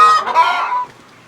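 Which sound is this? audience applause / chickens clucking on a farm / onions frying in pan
chickens clucking on a farm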